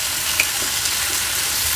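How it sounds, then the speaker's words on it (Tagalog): Chicken feet sizzling and frying in a pan while being sautéed for adobo, a steady close hiss with faint stirring scrapes and no talk. "Gisa-gisa mo na."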